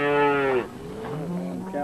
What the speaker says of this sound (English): Cows, there was 60 head of cows